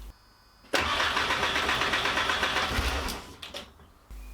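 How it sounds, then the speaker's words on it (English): A car with a 1.8T engine cranks in one steady, fast whirring burst of about two and a half seconds without catching, then cuts off with a few faint clicks, close and alone. "when I tried to start the engine,"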